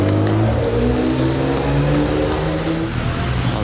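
A car engine revs loudly and close, its pitch climbing and falling in sweeping strokes, with no voices.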